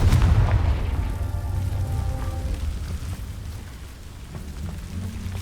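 A Confringo blasting spell in Hogwarts Legacy sets off a loud, booming explosion that rolls into a long, rumbling decay. The sound is close and heavy, and nobody speaks.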